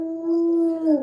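A pet dog gives a single sustained, wolf-like howl lasting about a second. Close and clear, with a rising waver at the end.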